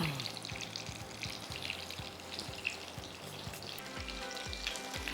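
Chicken tonkatsu fries gently over low heat in a pan, giving a steady, close crackling sizzle with scattered pops and a few soft knocks, and no one speaks.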